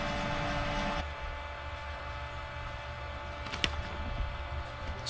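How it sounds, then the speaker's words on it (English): A water pump cranks up beside a liquid-cooled Generac 15K generator, a steady broadband mechanical hum and hiss that shifts after about a second, with a brief clank later, fairly faint throughout. "Sorry for the noise, the pump just cranked up."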